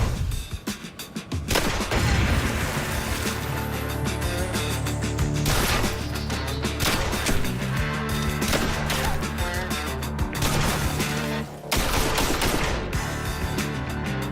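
A Saiga 12 combat shotgun, an AK-47-inspired design, fires in loud rapid bursts with sharp repeated blasts and echoing crashes across several seconds.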